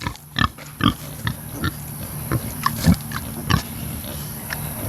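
Pigs grunt outdoors in short, separate bursts, about a dozen rough low grunts in an irregular rhythm, fairly close, with no talk over them.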